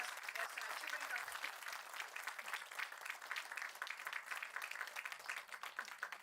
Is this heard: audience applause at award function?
yes